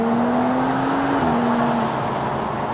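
BMW M235i accelerating hard from inside the cabin as its exhaust valves open, a loud steady engine drone with a rising tone that levels off and drops back slightly near the end.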